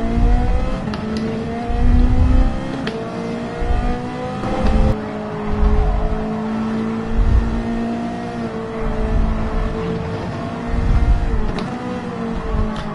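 A Ferrari race car engine in Gran Turismo 7 revs loudly and steadily, with repeated acceleration swells and gear changes, close and continuous with no talk over it.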